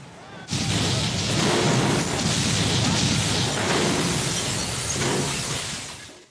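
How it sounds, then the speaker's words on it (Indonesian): A landmine explodes in an Indian action film, a sudden loud blast that bursts in after a brief silence and rolls on as a dense, roaring rumble with shattering debris for several seconds before fading. "Ramohan menjadi kesal, lalu melempar Sanjay dengan batu yang membuat ranjau darat meledak"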